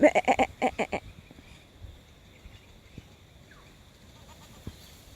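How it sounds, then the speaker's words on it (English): A dairy goat bleats in a quick series of loud, wavering calls for about a second, followed by quiet outdoor background with a faint bird chirp. "You're one of my dairy goats."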